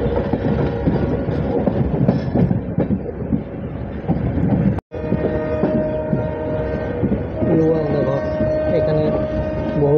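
Passenger train on a long journey from Falakata to Dibrugarh running steadily on its rails, a continuous loud rumble with rhythmic clatter throughout and a brief dropout midway.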